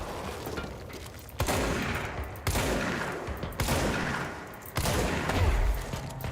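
Video game gunfire in bursts of rapid shots, several loud volleys separated by short gaps, close and dense, with no talk over it.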